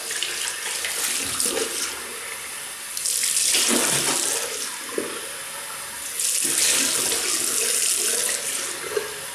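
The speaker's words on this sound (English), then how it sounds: "So I just rinse" Tap water runs into a sink while a razor and face are rinsed during a wet shave with a Merkur Progress safety razor. Steady close splashing swells louder twice and then eases off, with no talking.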